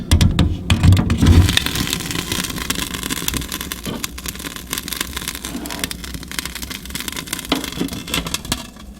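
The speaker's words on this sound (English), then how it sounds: "So I have to plug in my exhaust fan right now to pull all of the air outside of the room." An exhaust fan runs beside a homemade multi-fuel stove built from a broken electric stove, giving a steady motor whir and rattle that starts with a louder burst and then settles at an even level.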